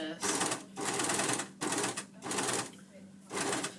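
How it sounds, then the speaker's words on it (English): Overlocker stitching along the bottom edge of a fabric piece in a sewing class, running in four rapid buzzing bursts with short pauses between them, close and clear. "on the front you'll be overlocking along this bottom edge here"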